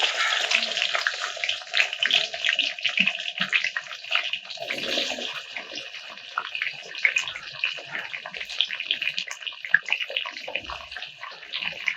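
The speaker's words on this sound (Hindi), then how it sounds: "तेल गर्म हो चुका है, अब इसके अंदर हम सूड़े डालेंगे थोड़े थोड़े करके।" Lasoda fruits dropped a few at a time into hot oil in a wok, giving a steady, dense hiss and crackle of frying that carries on evenly throughout, fairly soft and close.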